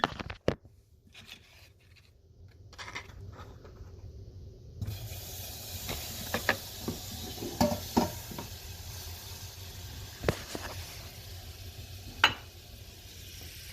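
Butter sizzling in a hot pan as the base for sausage gravy, a steady frying hiss rising after a quiet start, with occasional clicks and scrapes over it.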